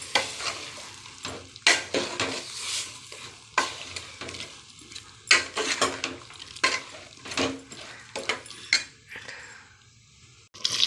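Freshly ground masala being mixed into a dish frying in a pan, with bursts of loud scraping and clinking from a spoon against the pan over a low sizzle, repeated irregularly and close up, with no talk.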